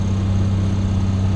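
A car engine idling steadily at about 1,000 rpm after a cold start, a continuous low, even hum, close and fairly loud with no other sounds.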